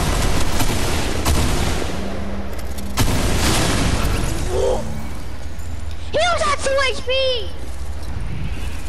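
A grenade explodes in the video game Fortnite. A few loud booms and bursts stand out over steady game noise, with players talking excitedly throughout.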